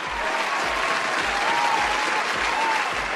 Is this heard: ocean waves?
no